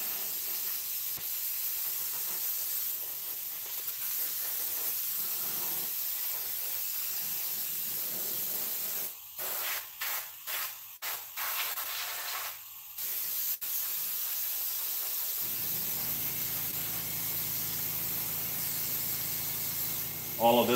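Aerosol spray paint in a lighter gray hissing out in a steady continuous stream, broken by a few short bursts midway, close and fairly loud, then giving way to a lower tonal hum near the end.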